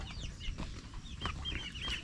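Chickens on a farm clucking in short overlapping calls over a low, steady outdoor background.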